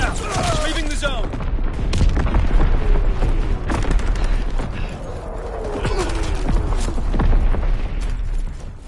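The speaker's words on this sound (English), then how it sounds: "Mortar shot out." Mortar rounds fired and exploding in a military shooter, a loud fusillade of booms and gunfire with whistling incoming shells and mechanical clatter, under radio-style voice callouts.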